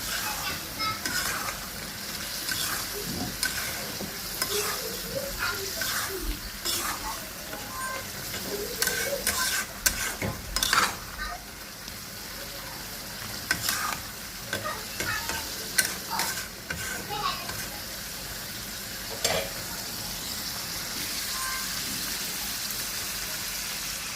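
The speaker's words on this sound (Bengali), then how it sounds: "ডিম আলুগুলো কষানো হয়ে গেছে" Eggs and potatoes being sautéed in oil in a pan for egg bhuna, a continuous sizzle with repeated scraping and clattering of a spatula stirring, close and fairly steady over a long stretch.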